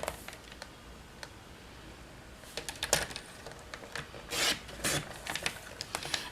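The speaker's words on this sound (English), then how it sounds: "you're just going to cut them in a diagonal, and then cut the other one" Quiet scissors snip through cardstock squares, cutting them diagonally, in a few short irregular rasping bursts close up with no talk.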